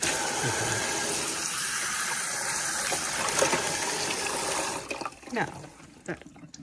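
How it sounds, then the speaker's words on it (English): Cold tap water runs in a steady gush to wash ice, a continuous close splashing that tapers off near the end with a few handling clatters. "you're going to want to wash it. Make sure you have it on cold now."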